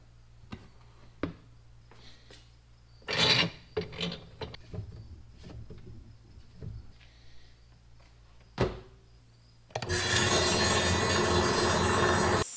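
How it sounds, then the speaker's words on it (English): Rock saw cutting white quartz from Lake Superior, handling knocks and clatter at first, then a loud steady grinding whine of the blade starting near the end. "I'm going to be cutting 5 rocks from Lake Superior, starting with this one, which is just white quartz."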